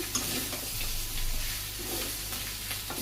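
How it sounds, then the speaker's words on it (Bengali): Chicken meat sautés in a pan during village cooking in Bangladesh, giving a continuous soft sizzle and frying hiss with faint stirring scrapes, fairly quiet and steady throughout, with no voices. "মাংস কষানো হয়ে গেছে প্রায়"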